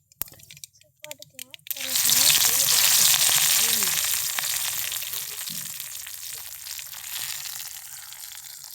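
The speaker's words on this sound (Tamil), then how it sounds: "கருவேப்பிலை போட்டுக்கலாம். பொரியட்டும்." Curry leaves dropped into hot oil burst into loud, crackling sizzling that fades slowly to a steady frying hiss. Brief clinks and a voice come just before the leaves go in.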